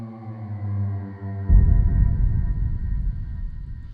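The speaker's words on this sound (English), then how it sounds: "So that cello leading into it sounds like this" A low sustained cello note leads into the second section of a film score, heavily low-pass filtered, before a dense, rumbling orchestral texture swells in and carries on, loud and close, with no voices.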